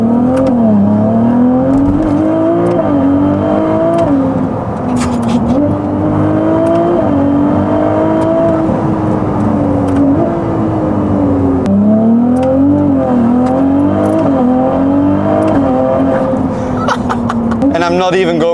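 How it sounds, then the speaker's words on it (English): A Novitec-tuned Ferrari 296 GTB engine revs while driving, loud and close from inside the car, its pitch rising and falling through repeated surges as a person talks over it. "And I'm not even going to the entire rev range."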